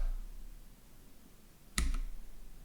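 Number keys on a computer keyboard are pressed in a quiet room, giving a single sharp click followed by a faint second tap.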